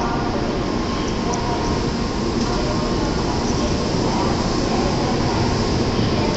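Shinkansen Nozomi 351, an N700S Supreme, at Shin-Osaka station: a steady rumbling train roar with faint high squeals and station ambience, constant in level and fairly close.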